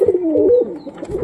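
A male pigeon coos in a soft, close, low warbling phrase that rises and falls, then repeats briefly, with no talking.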